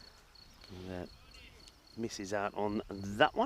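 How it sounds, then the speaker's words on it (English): Crickets chirp in the background at a cricket ground, a steady faint high trill running throughout, while a commentator talks over it. "Love the sound of the crickets who've come out to join the cricket match."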